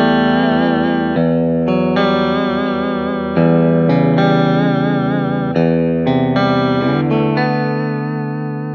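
An ESP E-II SN-II Snapper electric guitar plays with its humbucker coil-tapped, giving sustained clean chords and notes with effects, shimmering chorus-like modulation and reverb, loud and close with no talk.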